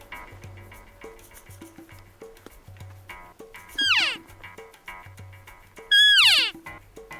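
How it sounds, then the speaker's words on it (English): Utah elk bull bugling twice, each a rising then falling high whistling squeal ending in grunts, heard at a distance over faint background noise. "he's starting to bugle again"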